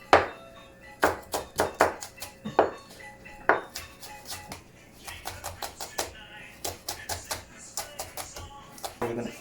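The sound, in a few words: knife chopping green chilies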